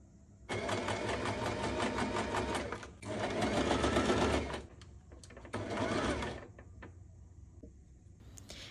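A sewing machine stitches the side panels of a fabric hobo bag in three bursts of steady fast whirring, close and clear, separated by short pauses.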